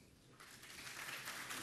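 A crowd at a village welcoming ceremony in Anoumabo, Côte d'Ivoire, breaks into applause that swells from quiet to a full, continuous clatter of clapping hands, moderately distant and without talk.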